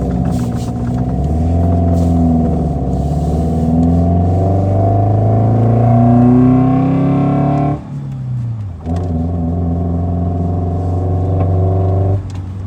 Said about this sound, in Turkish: Araba deli gibi çekiyor.